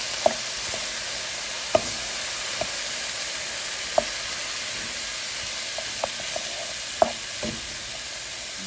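Crumbled meat browns in a pan for a tomato pasta sauce, a continuous close sizzle and hiss dotted with scattered sharp pops and clicks, no talking.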